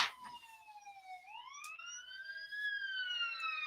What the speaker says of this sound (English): There's some kind of emergency going on outside, and they keep hitting their sirens.